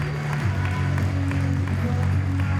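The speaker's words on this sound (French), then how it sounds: "il lui en faut encore" Applause from an audience at a certificate award ceremony, a steady dense wash of clapping that stays loud and even throughout, with a low hum underneath.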